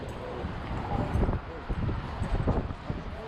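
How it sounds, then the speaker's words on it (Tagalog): Strong wind during a night dust storm in Dammam, gusting and buffeting the microphone in uneven bursts of roaring noise. "Sunstorm is still coming and the wind is strong."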